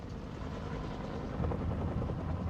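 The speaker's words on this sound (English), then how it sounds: "The flight crews of these early forces were equipped with dozens of Piasecki H-21 Shawnee transport helicopters" A Piasecki H-21 Shawnee transport helicopter of the Vietnam War era drones in a steady, loud low rumble with a dense chopping pulse, holding close and constant throughout with no voices.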